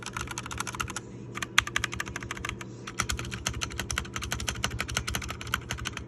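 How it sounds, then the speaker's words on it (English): Rapid, steady typing on a mechanical keyboard with a tape-modded spacebar, dense close clicks and clacks in quick irregular bursts with brief pauses, quiet and alone. "I did a tape mod underneath the spacebar so that it has less of a clicky basic plastic sound"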